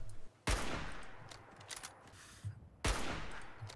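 Gunfire aimed at a turret in Fallout 4, with two loud, close sharp gun blasts about two seconds apart and a rumbling, crackling noise in between.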